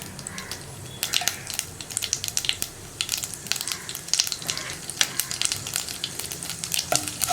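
Mustard seeds and chana dal crackle and pop rapidly in hot oil, a busy close-up sizzle with sharp irregular bursts and some stirring scrapes.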